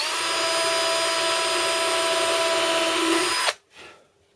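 An electric power drill boring with a 1.5 mm bit, a steady high whine held for about three seconds before it cuts off and briefly spins down.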